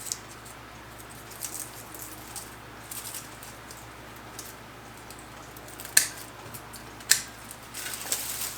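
Pruning scissors trim back a houseplant, giving soft rustles of leaves between a few crisp, close snips, two of them especially sharp and distinct near the end.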